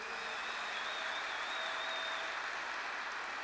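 A church congregation applauds in a steady, sustained wash of clapping that stays even throughout, with a faint whistle-like tone drifting above the crowd noise.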